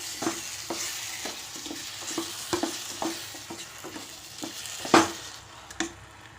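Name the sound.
stirring mashed elephant foot yam and sugar in ghee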